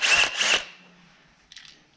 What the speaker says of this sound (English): I'm gonna drill where I pulled the connector off.